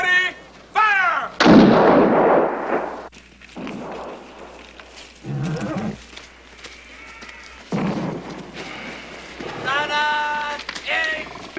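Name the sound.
cannons firing in a film battle scene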